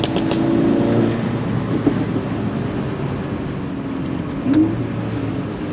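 A Volkswagen Mk6 GTI with a tuned exhaust is rev-matched on a downshift. The engine drones in a low hum, then gives a short rising blip near the end, heard from inside the car with no talking.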